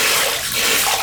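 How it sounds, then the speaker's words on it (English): Water gushes loudly and steadily through a toilet being flushed to clear dirt from a slow-filling tank, a close, continuous hissing rush with no pause. "give it a flush."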